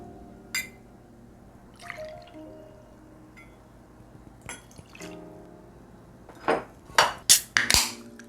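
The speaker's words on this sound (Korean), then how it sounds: "먼저 잔에 위스키를 30ml 따라주고요" Jameson whiskey, about 30 ml, is poured into a glass for a lime highball. A soft trickle leads to a burst of sharp glass clinks and drips near the end, close and fairly quiet, with no voices.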